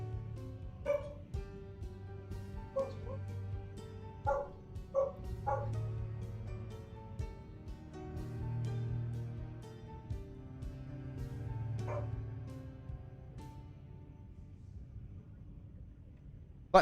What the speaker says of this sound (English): My dog is now happy that my wife is back.